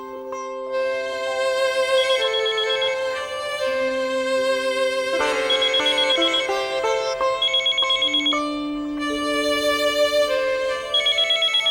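A telephone rings with a bright electronic ringtone melody, steady and loud, repeating its phrases for several seconds with no talk over it, in a domestic scene from a Hindi TV serial.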